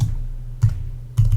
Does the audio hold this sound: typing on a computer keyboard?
yes